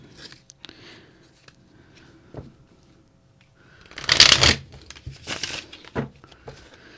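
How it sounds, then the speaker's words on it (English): Tarot cards being shuffled by hand, a few soft riffles and crisp card flutters, with one loud burst of shuffling in the middle and quieter paper rustles around it. "One more shuffle."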